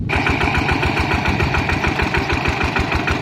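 Groundwater pump engine on a farm, running loud and close with a rapid, even thumping rhythm and a steady mechanical drone throughout.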